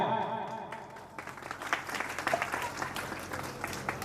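An audience at a Nav Chandi yagna ceremony breaks into applause, the clapping building after a second into dense, sustained clatter that carries on to the end.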